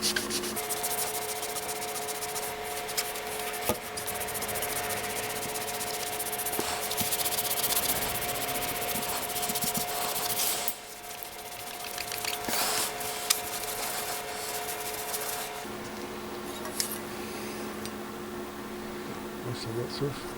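Continuous hissy rubbing from a machine polisher working Meguiar's Ultimate Compound into Suzuki GSX1400 motorcycle paint, steady and close, with a brief dip midway and a shift in tone near the end.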